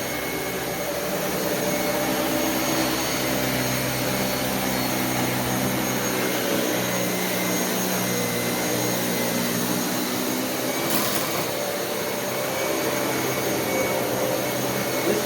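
A Dyson Cinetic Big Ball vacuum cleaner running continuously, a loud steady motor whine and airflow roar with strong tonal hum that holds unbroken throughout.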